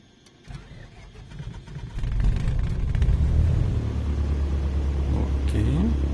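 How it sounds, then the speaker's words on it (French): A light propeller aircraft engine cranked by its starter: brief whirring and clicks, then the engine catches with a loud rising roar that settles into a steady, close, rumbling idle. "démarreur actionné"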